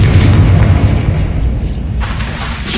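A Bombarda blasting spell explodes in Hogwarts Legacy, a loud, continuous low booming rumble with a brief sharp crackle near the end.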